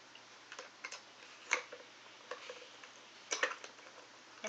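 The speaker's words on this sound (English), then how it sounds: "Sounds like a ratchet." Small toy ratchet from a children's toolbox clicking in short irregular bursts as it is turned back and forth, faint and close, with no talking.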